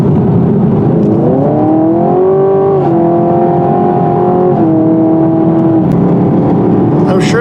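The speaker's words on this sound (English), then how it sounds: "we've got the vehicle in track mode. Makes for a louder exhaust" A 2020 Chevrolet Camaro 2SS with its V8 in track mode drones loudly from inside the cabin, its exhaust note rising and stepping through gear changes in a sustained, throaty hum.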